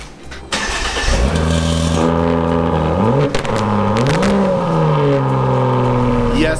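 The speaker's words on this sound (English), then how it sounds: "I just cold started that car" Volvo V60 Polestar engine cold started, catching with a burst, then revved several times in rising and falling sweeps before settling to a loud, close idle.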